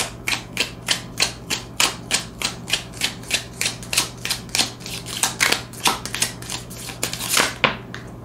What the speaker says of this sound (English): Okay, let's get a few cards to go with that.